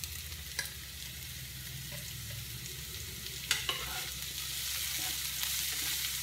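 Carrot, capsicum and tomato fry in a pan for a whole wheat vegetable pasta, giving a steady broadband sizzle with a few sharp clicks of stirring scattered through, heard alone without talk.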